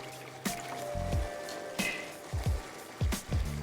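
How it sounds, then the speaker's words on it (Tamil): Water poured into a thick, rich curry gravy in a cooking pot, heard as a few short splashing and gurgling bursts with quiet gaps between them. "ஸோ லேசாக தண்ணி மட்டும் சேர்த்துக்கலாம்."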